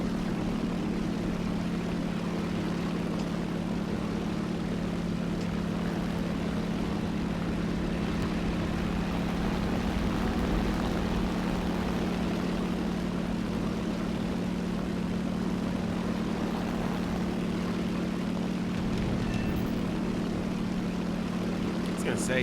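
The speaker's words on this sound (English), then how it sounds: "look like our air support is very strong with this squadron." Aircraft squadron providing air support in a video game, a steady droning engine and propeller hum holding constant at moderate loudness with no clear breaks.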